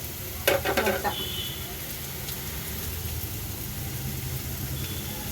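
Egg stir-frying with vegetables and onion in a pan for egg rice: a few quick utensil clatters against the pan at the start, then a steady low sizzle continuing close and even.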